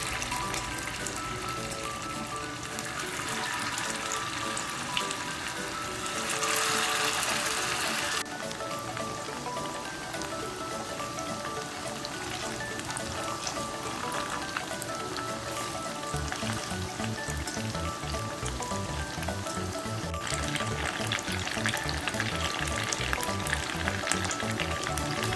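Chicken breast pieces sizzle and crackle steadily in hot oil in a pan, a dense continuous frying hiss that swells slightly partway through, with no talking.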